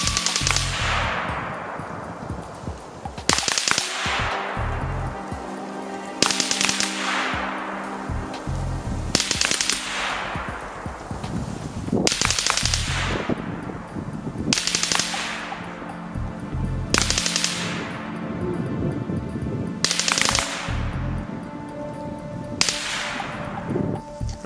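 RECCE LMG-L auto rifle in a video game firing repeated bursts down range, about eight sharp rattling volleys spaced a few seconds apart, each with a ringing tail over a steady background.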